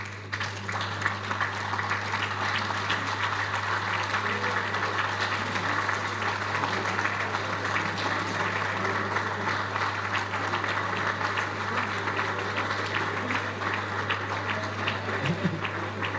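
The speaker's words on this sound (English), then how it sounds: "You have clapped me out of the podium." Sustained applause from an audience at a medical association's opening ceremony, steady and dense throughout with a constant low hum underneath and no voices on top.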